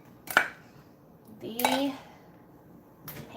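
Apple cinnamon cake batter goes into 9-inch metal cake pans, with three sharp clanks and scrapes of pan and utensil, well spaced and close by.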